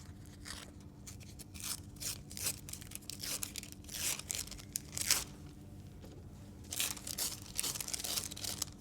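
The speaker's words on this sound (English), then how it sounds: "Simply take your paper off" Paper backing peeled off adhesive fabric for quilt applique: repeated soft tearing and crinkling strokes, close and fairly quiet, in irregular bursts with no talking.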